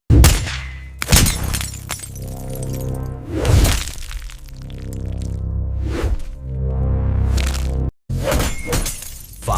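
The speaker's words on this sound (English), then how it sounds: "5 tests, 5 direct strikes. The panel is shattered but the protected side shows nothing." Bulletproof glass panel rated for UL Level 8 taking rifle strikes in a factory test: several sharp, loud cracking impacts, each followed by shattering crunch and debris, spaced a second or two apart.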